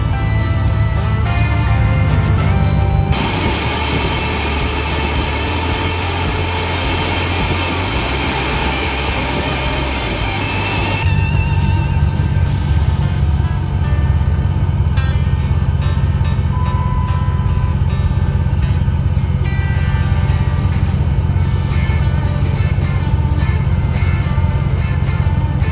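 A 2005 Dodge Dakota engine, started after five years parked, runs steadily, with a loud, continuous rumble. A brighter, harsher layer rises for several seconds, then eases back to an even idle.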